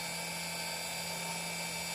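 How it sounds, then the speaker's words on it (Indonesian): A power grinder sands the fiberglass-covered heel of a handmade high-heeled platform sandal, giving a steady, loud high-pitched whine with a low hum, continuous throughout and with no voices. "Kita langsung diamplas gerinda supaya"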